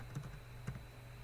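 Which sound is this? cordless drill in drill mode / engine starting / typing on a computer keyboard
typing on a computer keyboard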